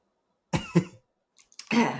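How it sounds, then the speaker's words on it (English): A few sharp coughs close to the mic, two quick bursts followed by a pause and then a longer, rougher cough with some throat clearing. "I've got a cough here"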